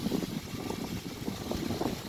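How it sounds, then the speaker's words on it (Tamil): Strong wind roars and buffets the microphone in a constant low rumble, with no other clear sounds. "பயங்கர காற்று"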